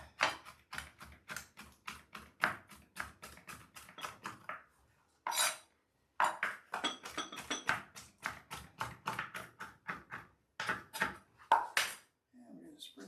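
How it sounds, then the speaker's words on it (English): A knife chops parsley on a cutting board in a home kitchen, rapid crisp knocks in steady bursts with short pauses between runs, close and clear. "we're going to take a little bit parsley. And we're going to cut that up"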